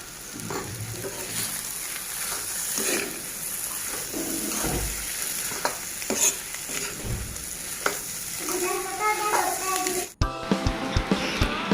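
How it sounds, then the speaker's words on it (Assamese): Bitter gourd seeds fry and are stirred in a pan, a steady close sizzle with repeated scraping strokes and a few clinks of the spoon, ending in sharper metallic taps. "এতিয়া এইখিনি গোটেইখিনি ভাজি ল'ম ভালদৰে"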